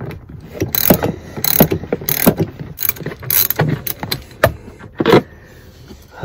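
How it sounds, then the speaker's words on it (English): A ratchet with a 14 mm socket clicks while loosening a large grab handle bolt inside a Toyota Sienna. Bursts of ratcheting are close and fairly loud, with short pauses between turns. "So you will need a 14 millimeter socket."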